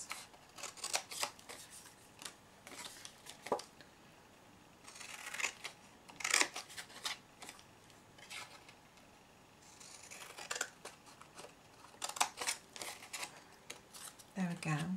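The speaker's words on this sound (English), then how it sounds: "if you take your scissors and just cut along the score lines to remove those sections" Scissors snipping through scored cardstock while making a mini triangle gift box, a series of crisp, close cuts in irregular bursts, with someone talking between them.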